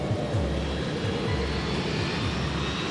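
A Boeing 757 jet airliner begins its takeoff roll on a runway at night, a loud, steady, broadband engine roar with a deep low rumble that holds constant throughout.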